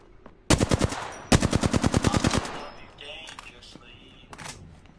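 Rapid automatic gunfire in a battle royale shooter game, one short burst and then a longer loud run of evenly spaced shots, followed by fainter thuds and clatter.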